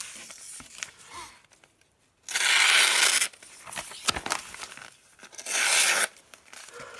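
A Böker knife slices through catalogue paper in two loud, rough bursts of tearing, each lasting about a second, with quieter handling rustles between.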